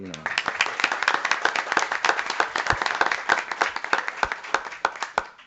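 Short burst of hand clapping from a small audience at a city council meeting honoring a county baseball player of the year, close and crisp with sparse individual claps tapering off at the end.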